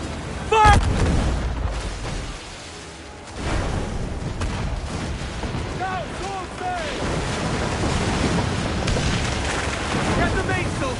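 Ship cannons firing during a naval battle in Assassin's Creed Black Flag: heavy booms over a churning sea-like rumble, with an early sharp report and more thuds after, while voices shout over the din.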